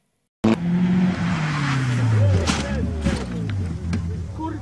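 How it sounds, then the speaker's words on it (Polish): A car driven hard across farm fields, its engine revving loud and close with rising and falling pitch, wheels and bodywork rumbling over rough ground throughout. "Kamil, dawaj mu gazu i przez te pola walimy."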